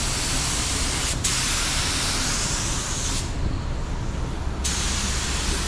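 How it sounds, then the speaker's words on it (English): A continuous, steady hiss of a spray gun atomizing clearcoat, close and loud, with brief shifts in tone as the spray pattern moves. "The spray's really good, atomized good."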